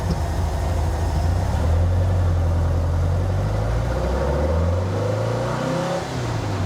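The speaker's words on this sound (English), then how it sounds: "We'll do a full throttle up here in just a second." A 1974 Porsche 912 engine, still running rich during a tune-up, revs hard at full throttle, its loud, close growl sweeping up in pitch, easing back and climbing again without any talk over it.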